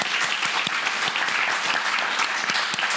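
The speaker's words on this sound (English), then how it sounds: "So huge round of applause for Dr. Gandara" Dense, steady applause from an audience thanking a doctor who has just spoken at an evening lung cancer talk, close and continuous for the whole stretch with sharp individual claps standing out.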